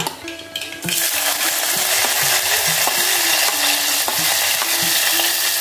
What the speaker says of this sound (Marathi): आता आपण कांदा घालूया